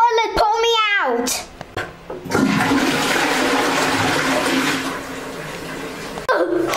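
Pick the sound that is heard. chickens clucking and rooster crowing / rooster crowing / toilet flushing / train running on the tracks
toilet flushing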